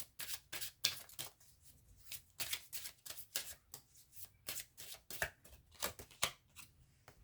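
Tarot cards are handled and turned over on a table, making a quick series of crisp, close papery flicks and slides at an irregular rhythm, heard alone with no talk.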